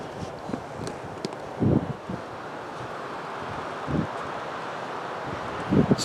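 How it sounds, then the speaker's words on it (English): Strong wind blowing outdoors by a river house build site, a continuous broad rushing roar buffeting the microphone with a few heavier gusts and thumps. "It's too windy for the plumb bob"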